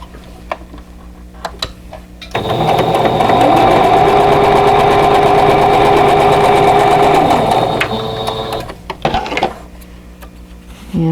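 A sewing machine stitches along a drawn line on a quilt square, running in one steady, loud whirring burst of several seconds, with quieter handling clicks before and after.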